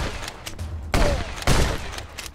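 Gunfire in the video game Contraband Police: two loud bursts of shots stand out over a busy game background, with no talking.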